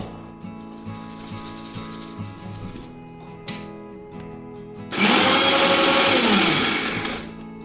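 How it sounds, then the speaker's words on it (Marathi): A kitchen mixer grinder whirs, grinding coarse millet flour, running in a steady rhythmic churn before surging into a loud, harsh roar midway, close and with no talking. "जाडसर राहिलेलं परत मिक्सरमध्ये वाटायचं"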